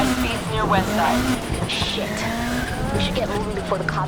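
Race cars in the video game Need for Speed Heat roar along with engines rising and falling as tires squeal and skid through corners, while a person talks over the driving.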